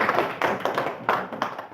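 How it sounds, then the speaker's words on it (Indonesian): A group claps hands in a classroom, a brief burst of irregular, fairly soft claps that swell and fade in small waves. "Oke, tepuk tangan dulu."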